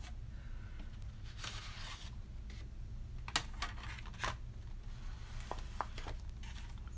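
Craft paper having its sides cut on a cutting board, a few sharp close snips and rustles over a steady low hum, no voices.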